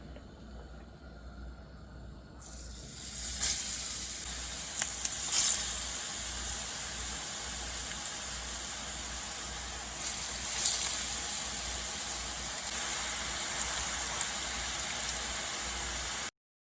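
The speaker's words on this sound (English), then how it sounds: "So somebody sent me some roast breadfruit, so I'm just gonna fry it." Roast breadfruit frying in a pan for a Jamaican breakfast gives a steady, close sizzle that begins after a quiet opening and continues unbroken, with a few brief clinks on top.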